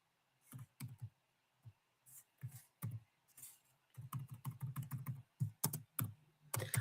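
Rapid keystrokes on a computer keyboard during a live football watchalong, coming in irregular bursts of clicks and taps that speed up into a dense flurry, fairly close and unaccompanied by speech.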